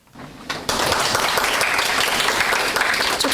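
An awards ceremony audience breaks into loud, sustained applause that swells quickly after a brief quieter start and continues steadily.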